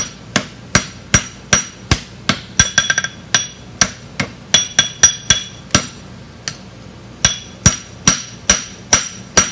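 A hammer strikes metal being forged into a hook, ringing out in a long run of sharp, loud, evenly spaced blows with brief quick flurries and short pauses, close by and without talk.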